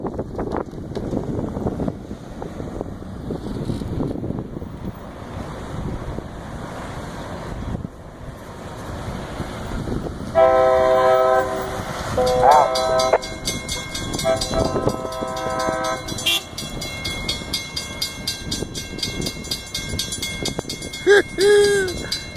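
A Loram rail grinder maintenance-of-way train passes northbound on CSX track, a steady rumble and wind buffeting building into harsh tonal grinding whine and a horn-like blast, loud and close, with brief talk.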